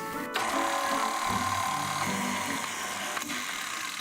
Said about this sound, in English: We'll put that in the mixer and get it going.